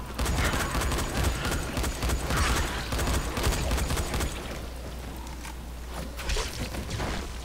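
Rapid gunfire from shooting zombies in the Dying Light video game, dense bursts of loud shots rattling almost without pause, with a low steady hum underneath and the shots easing slightly toward the end.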